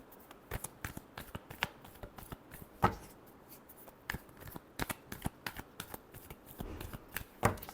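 Tarot cards are shuffled by hand, a quiet, rapid series of soft riffling flicks and taps running steadily throughout with a few sharper snaps, close up and without speech.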